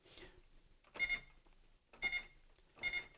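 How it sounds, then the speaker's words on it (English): Short electronic beeps from a Xerox MemoryWriter 6040 electronic typewriter, heard as three evenly spaced tones about a second apart, clear and close in a quiet room. "The double beep means something went wrong and you get the error message on the screen."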